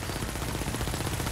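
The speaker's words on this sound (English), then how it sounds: "Stop shooting!" Turret gunfire in The Division, a dense rapid rattle of automatic shots filling the whole short burst, loud and unbroken.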